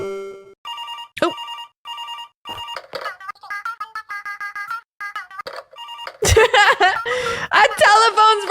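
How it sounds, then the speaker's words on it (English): Beeping, ringtone-like electronic tones in a rhythmic pattern come from a telephone character in the Incredibox Sprunki video game, followed by a dense burst of layered, laughing and chattering sounds. "A telephone Sprunki character!"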